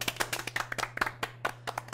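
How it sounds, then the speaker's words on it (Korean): A small studio audience claps for a talk show guest, with distinct individual claps in an uneven rhythm from a handful of people nearby. "박수 한번 쳐드리죠"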